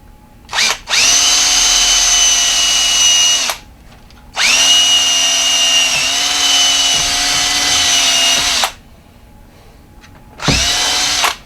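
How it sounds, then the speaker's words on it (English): A power drill boring clearance holes in a shop, three sustained whining runs of several seconds each with slight pitch sags under load, loud and close, separated by short silent pauses. "I'm going to go ahead and drill this other"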